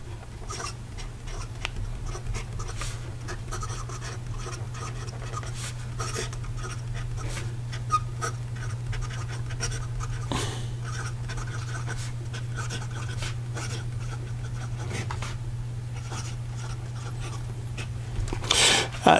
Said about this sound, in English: So here we go with the writing sample.